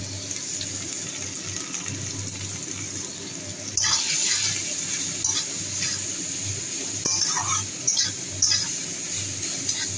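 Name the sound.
radish added to frying potatoes, sizzling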